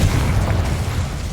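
Confringo spell explosion in Hogwarts Legacy, a loud, dense rumbling burst with a heavy low-end boom sustained throughout the short moment.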